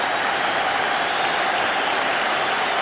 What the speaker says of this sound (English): the crowd give him a rousing